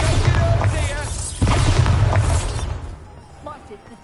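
A magical Bombarda blasting spell in the wizarding game Hogwarts Legacy lands as a sudden booming explosion, rumbling and fading over a couple of seconds, with voices talking over it.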